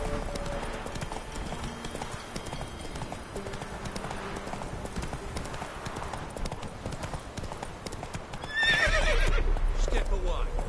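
A horse in The Witcher 3: Wild Hunt gallops with steady, close clip-clop hoofbeats, and a loud neigh breaks out near the end. Faint game voices murmur underneath.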